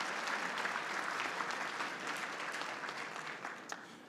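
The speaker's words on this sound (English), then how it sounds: "Let's give a big, big round of applause to our second Vice President, Mayor Kevin Johnson." Steady applause from a luncheon audience at an opening plenary, a dense, even wash of clapping that fades slightly toward the end, with no talk over it.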